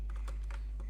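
Quiet typing on a computer keyboard, a short burst of several soft, irregular keystrokes heard close up with no talking.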